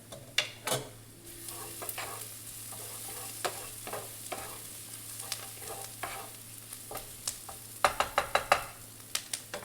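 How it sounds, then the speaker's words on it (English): Garlic and onion frying in a pan, a soft continuous sizzle with a spoon scraping and stirring in irregular strokes, a quicker burst of stirring near the end, no voices. "add my clove of garlic into the onion and give it a stir"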